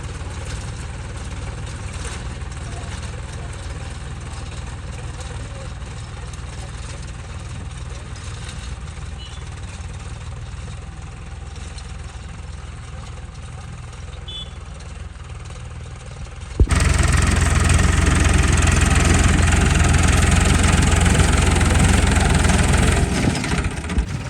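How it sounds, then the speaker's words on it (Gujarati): A tractor engine rumbles steadily at the farm field, idling with a low knocking throb, then abruptly grows much louder and closer for the final several seconds as it arrives. "અને ટ્રેક્ટર હાલો આવે છે"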